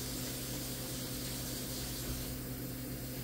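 Tap water runs steadily for hand washing, a close, constant rushing spray with no pauses.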